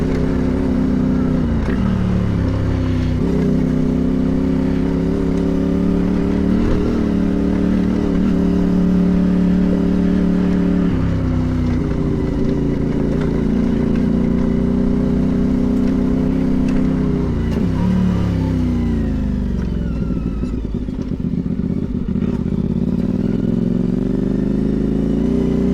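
A motorcycle engine ridden at night drones loudly and steadily, rising and falling through several rev changes and gear shifts with a faint clatter, and no talking heard.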